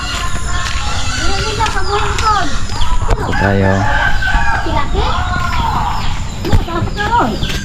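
Farmyard chickens cluck and a rooster crows behind a house on a rural farm, with a steady busy background of fowl calls while people talk nearby.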